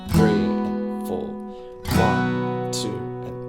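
Acoustic guitar chords from the first verse of a song, strummed in two loud ringing hits that sustain and decay, with lighter touches between them and no voice.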